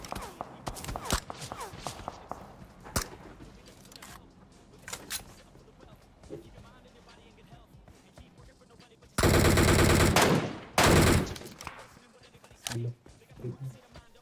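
MK14 rifle gunfire in the mobile battle royale game PUBG Mobile, heard as loud sharp shots and bursts, two heavy dense blasts late in the clip, while someone talks over the game throughout.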